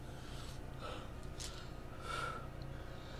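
A man gasps and draws ragged breaths as he tries to recover his breathing, a few faint, close airy pulls over a low, steady background hum.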